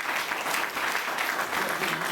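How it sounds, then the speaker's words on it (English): Warm audience applause after a children's piano choir performance, a dense steady clatter of clapping heard alone for a couple of seconds. "Let's have another warm round of applause"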